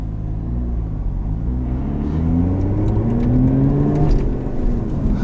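A 2021 Lotus Evora GT engine revs hard and climbs in pitch during a quick flat-foot gear change, heard up close from inside the car as a loud, continuous, rising growl.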